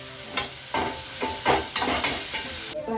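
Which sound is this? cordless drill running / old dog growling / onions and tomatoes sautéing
onions and tomatoes sautéing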